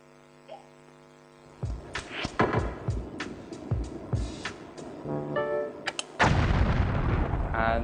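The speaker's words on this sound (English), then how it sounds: "it's a huge explosion, and all the pins fall down" A huge explosion knocks down all the pins in Wii bowling: a low hum and scattered sharp clatters build up, then a loud booming blast with rumbling noise fills the last seconds.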